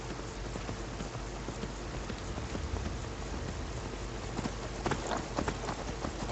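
Horse galloping in the Skyrim video game, a steady drumming of hoofbeats under rain-like ambient noise, fairly constant throughout with no talking.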